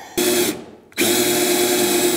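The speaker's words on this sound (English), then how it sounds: "I might have to drill like over here" A power drill whines steadily during a ducted heat pump install, running in one burst, stopping briefly, then spinning up again for a long continuous loud run.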